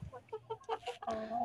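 Large-breed hens cluck on a small home balcony coop, a run of short, close clucks and calls building to a sustained, louder squawk at the end.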